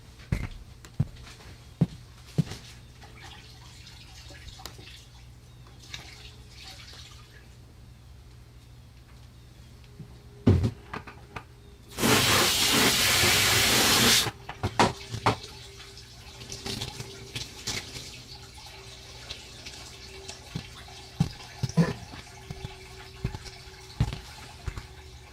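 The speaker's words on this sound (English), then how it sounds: "I think I'll rinse out this pad just quick" A polisher pad being rinsed under running water during a headlight lens restoration: a steady gush of tap water for about two seconds amid quiet clicks and handling noise.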